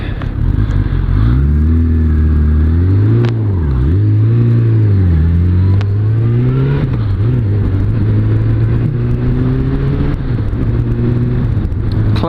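A Suzuki Bandit 600 S motorcycle with a cable clutch is ridden on the road. Its engine hums loud and close, rising and dipping as it revs through gears, with wind noise and no voices.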